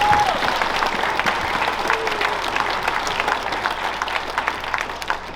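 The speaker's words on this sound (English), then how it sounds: "And one more clap for all of the Smith Valley students." A school crowd at a Veterans Day program gives a round of applause for Smith Valley students, continuous close clapping with a brief voice at the start, slowly easing off toward the end.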